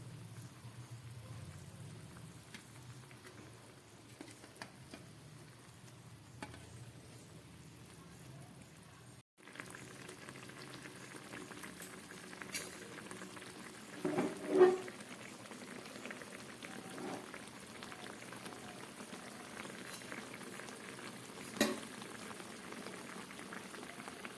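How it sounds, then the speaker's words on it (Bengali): Curry gravy with fried eggplant bubbling in a pan, a soft, quiet simmering fizz with occasional brief pops and a few louder clatters. "ঝোলটা ফুটছে"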